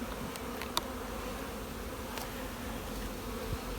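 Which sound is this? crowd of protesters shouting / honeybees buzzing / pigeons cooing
honeybees buzzing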